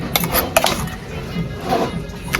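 Ginger garlic paste, made with onion and peppercorns, spooned into a pot for chicken fry-piece dum biryani: a few close clinks of a spoon against the pot over steady background noise.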